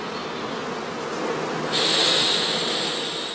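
Bees buzzing inside a straw skep hive, a dense, continuous hum that swells louder partway through and holds steady, close by with no other sounds.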